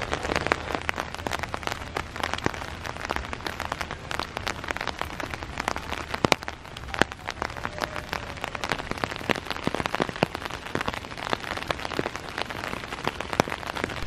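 Heavy rain pours down in a forest on a muddy hiking trail, a dense, even hiss of drops with scattered sharper pattering, steady and close throughout.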